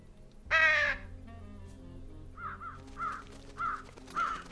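Crows caw in the video game Trüberbrook: one loud harsh caw, then a series of shorter, quieter caws spaced about half a second apart, alone without talk.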